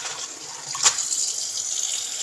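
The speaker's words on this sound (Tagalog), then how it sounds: "maghugas tayo ng ng kangkong" Kangkong (water spinach) is washed under a running tap, a steady hiss of flowing water with a brief splash, close and moderately loud, with no talking.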